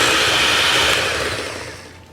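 An electric whisk beats butter and sugar in a bowl for a honey Victoria sponge, giving a steady, loud whirring buzz that fades slightly as the short run ends.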